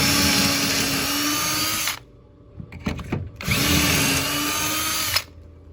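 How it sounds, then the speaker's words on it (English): A power drill bores pocket holes in wood in two loud, sustained bursts separated by a short pause filled with faint handling clicks and knocks. "then I'm just gonna drill 2 more pocket holes"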